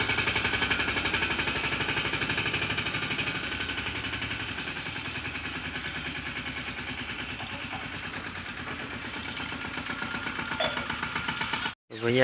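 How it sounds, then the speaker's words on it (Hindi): A tractor engine idles at a farm field in a steady, continuous chugging rumble at moderate distance, with no clear voices, cutting off abruptly near the end. "भैया आ गया है ट्रैक्टर लेकर"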